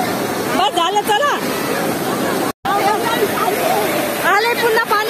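Sea water washes in at Somnath beach in a steady, loud rush of surf, with people talking and exclaiming excitedly close over it throughout.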